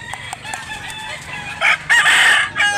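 A rooster crows loudly and nearby, a strained cock-a-doodle-doo rising near the end, after a few softer clucks and background bird noise.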